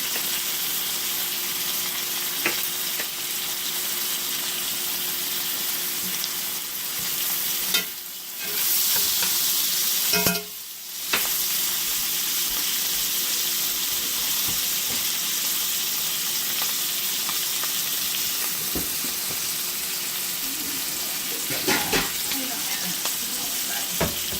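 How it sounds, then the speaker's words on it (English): A T-bone steak fries in plenty of butter in a home kitchen pan, giving a loud, steady sizzle with brief dips and occasional stirring clicks, and no talk over it. "Now I'm going to add some butter. I use a lot of butter for my steak."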